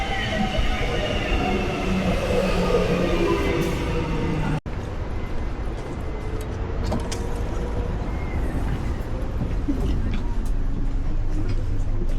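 Train rolling through Melbourne suburbs toward Richmond, a steady close rumble of wheels and carriage noise throughout, with a brief dropout near the middle and faint voices in the background.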